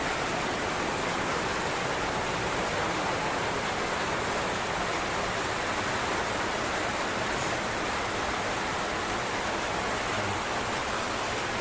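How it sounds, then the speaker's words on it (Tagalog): Heavy rain pours down steadily in a continuous, dense roar with no pauses, loud and close, and no voices are heard over it. "Yan, malakas ang ulan, tumutulog. Basa kami dito."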